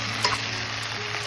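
Spice-stuffed baby eggplants frying in oil with onions and tomatoes. A loud, steady, close sizzle runs throughout, with one brief clink early on.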